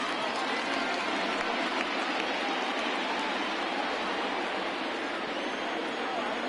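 A baseball stadium crowd at a Pirates vs. Brewers game keeps up a steady, broad roar of cheering as it stands for a full count. The sound is far and even throughout, with no distinct peaks.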